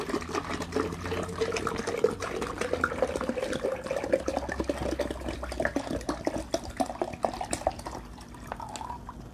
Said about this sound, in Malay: selepas itu kita masukkan air ini ke semuanya ke dalam jug